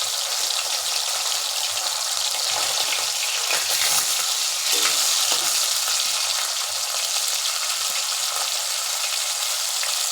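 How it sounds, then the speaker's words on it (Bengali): Pomfret fish fries in oil, a loud continuous sizzle and bubbling hiss that holds steady throughout with no talking. "মাছটা দিয়ে দিলাম, একটা একটা করেই ভাজবো, নাহলে ভেঙে যেতে পারে।"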